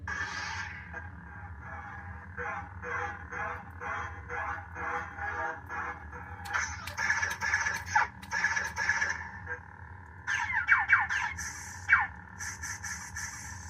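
A Darth Maul toy lightsaber plays its electronic sound effect, a buzzing, sizzling hum with crackling bursts that swell and fade over several seconds, close and fairly loud.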